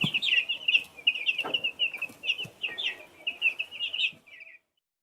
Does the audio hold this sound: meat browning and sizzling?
no